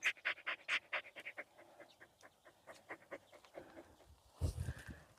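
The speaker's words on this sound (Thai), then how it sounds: "หอบแฮกๆเลยเหรอ" A dog pants rapidly on an evening walk through a mushroom forest, with quick, close, rhythmic huffs that slow partway, then a louder rustle near the end.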